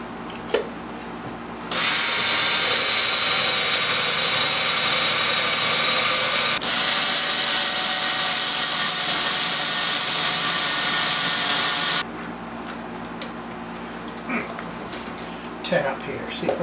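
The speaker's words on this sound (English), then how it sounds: "I'm going to go ahead and drill that out" A power drill runs continuously for about ten seconds at close range, drilling out a hole in a small Bakelite radio, a steady loud whirring that stops abruptly, with light handling noises before and after.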